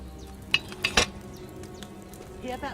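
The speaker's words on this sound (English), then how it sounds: "Hear that bubbling? It's boiling." A cauldron heats over a low flame in the medieval game Kingdom Come: Deliverance, giving soft bubbling and sizzling, with a few sharp metallic clinks near the start and a faint burble toward the end.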